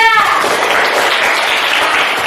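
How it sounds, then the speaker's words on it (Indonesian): A room full of people clapping, dense and steady throughout, fairly loud and close. "tepuk tangan buat kelompok 3"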